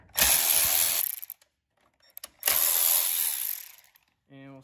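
A hand ratchet loosens an 8 millimeter bolt on a Kohler 7000 Series engine during head gasket repair: two loud, close bursts of rapid pawl clicking separated by a pause, followed by a brief low tonal sound.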